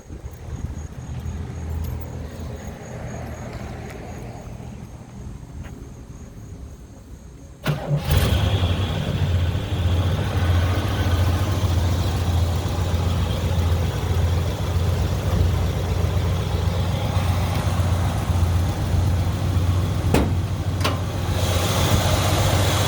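A 455 big-block V8 in a 1965 Oldsmobile 442 cranks and fires up abruptly, then settles into a loud, steady, rumbling idle close by, with no talking.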